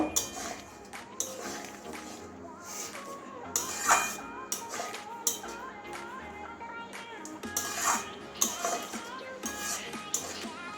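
A metal spoon stirs cooked chana dal with carrot and pointed gourd in a pot after garam masala is added, giving repeated clinks and scrapes against the pot in an irregular rhythm, close and moderately loud.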